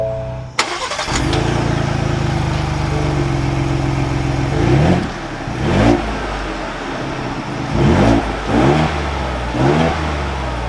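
2022 Ford Bronco Wildtrak Sasquatch engine starting up: a sharp crank and catch, then a loud steady idle with several short throttle blips rising and falling, heard close up and with no talk.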